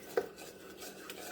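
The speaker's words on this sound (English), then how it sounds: "I constantly stir this because I do not want it to stick to the bottom of my saucepan" A utensil scrapes and clinks against a saucepan as sugar and butter melt together for chocolate peanut butter no-bake cookies. One clearer tap comes early, then quiet soft stirring follows.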